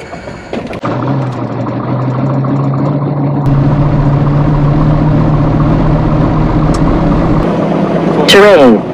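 A Piper M350 aircraft engine cranks and catches, then settles into a loud, steady running drone up close, with a voice speaking over it and a rising electronic whine near the end.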